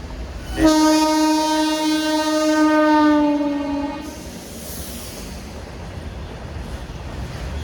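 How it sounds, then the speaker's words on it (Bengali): A train passing through Khalitipur Railway Station on a foggy morning sounds a loud, sustained horn for about three seconds, then its steady rumble carries on after the horn stops. "এখানে দেখতে পাচ্ছ এই যে ট্রেন যাচ্ছে দেখতে পাচ্ছ"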